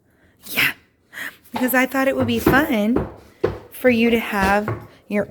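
A dog gives a single short, sharp sneeze near the start, followed by a person talking at close range in a kitchen while dyeing Easter eggs, with light clatter of dishes.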